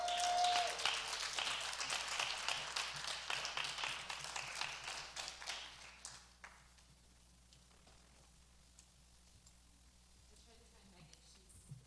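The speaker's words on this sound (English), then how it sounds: "So please give them a round of applause." Applause from the audience at an international critical psychology congress, a crackling spread of clapping that fades out after about six seconds into quiet room tone.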